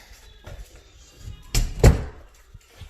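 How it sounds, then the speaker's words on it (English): A door in an old heritage house under renovation is pushed shut, giving two close, fairly loud thunks in quick succession, the second heavier, followed by quiet room noise. "so let me close this door."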